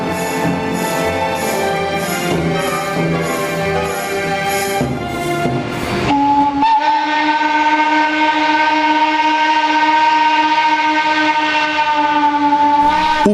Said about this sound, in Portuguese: O barulho da locomotiva sobre os trilhos. O apito do trem.